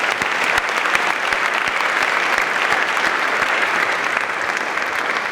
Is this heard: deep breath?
no